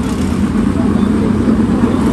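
Dense, continuous roar of 410 sprint race cars running together on track at Attica Raceway Park, a loud, unbroken wall of engine noise with no gaps.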